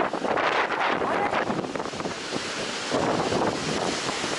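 Baltic Sea waves wash onto the shore at high tide along a seaside promenade, a rushing surge mixed with wind buffeting the microphone, with no talk.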